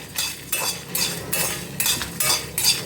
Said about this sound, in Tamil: தனியாவும் மிளகாவும் வதங்க கொஞ்சம் டைம் எடுக்கும், வதங்கட்டும்